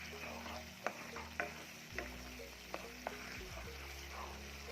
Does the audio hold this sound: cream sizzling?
yes